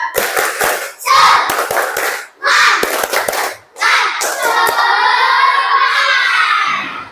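A class of fourth-grade children does a rhythmic spirit clap in a morning lesson, sharp claps in quick patterned bursts with short pauses between, and young voices chanting and shouting along.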